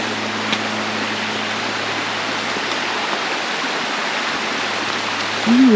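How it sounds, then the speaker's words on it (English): Steady, close rushing of Devil's Hole Creek flowing over its bed, an even broadband wash that holds unchanged throughout with no voices. "And this is Devil's Hole Creek."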